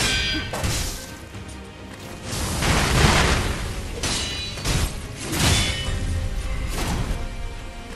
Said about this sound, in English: Be scared of my firecrackers